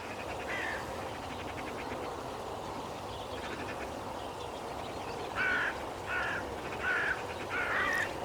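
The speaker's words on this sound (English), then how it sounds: "a couple of hooded crows came in and landed in a tree about 70 yards to my left" Hooded crows caw from a tree about 70 yards away: a faint single call early on, then a run of four or five harsh caws near the end, distant over quiet outdoor ambience.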